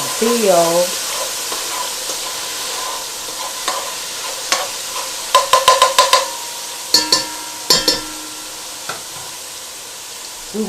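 Garlic sizzles steadily in a hot pan, with a constant close hiss and several clinks and scrapes from stirring. A person speaks briefly at the start.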